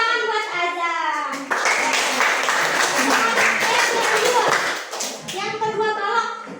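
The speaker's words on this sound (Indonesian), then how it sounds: "Tepuk tangan buat Ajeng." Classroom applause for a student in a fifth-grade lesson, a burst of many small hands clapping together for several seconds, with a teacher's and children's voices speaking before and after.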